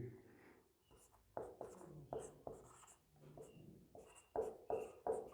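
Chalk or a marker moves across a classroom board in short, scratchy strokes, some quick and tapping, separated by brief pauses, fairly close and quiet.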